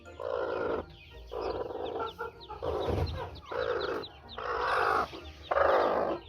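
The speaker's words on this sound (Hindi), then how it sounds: "तो अभी मैं मुर्गी को उठाता हूँ," A hen clucks while being picked up, six loud, close bursts of agitated clucking separated by brief pauses.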